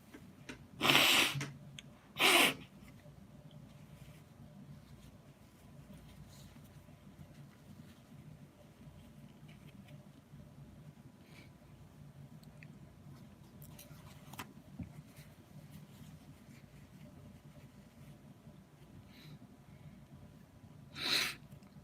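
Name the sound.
sniffling nose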